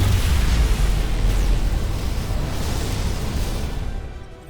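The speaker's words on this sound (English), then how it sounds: "Dilithium explosion." A dilithium crystal explodes in Star Trek: Resurgence, a loud, dense, rumbling blast that holds steady for several seconds before tapering off, with no talking.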